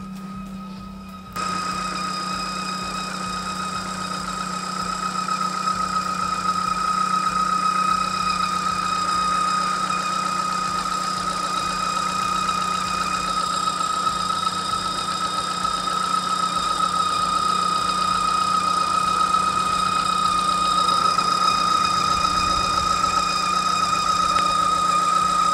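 A Ford Mondeo ST220 with a straight-pipe exhaust runs close by at a steady idle, giving a continuous droning hum with a persistent high squeaking whine layered over it. There are no voices and no clear revving.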